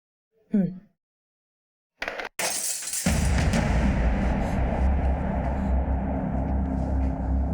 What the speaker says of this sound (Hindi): अरे ये कांच किसने तोड़ा?